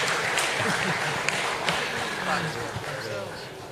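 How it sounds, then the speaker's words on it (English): Steady audience applause from a crowd at a public talk on the CSME, dense and continuous from start to finish with a few sharper claps poking out. "I think from the applause, the audience know what to do."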